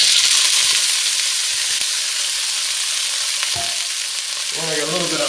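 Garlic scapes sauté in a hot pan on a stove, giving a steady, loud broadband sizzle throughout with brief stirring clatter near the end.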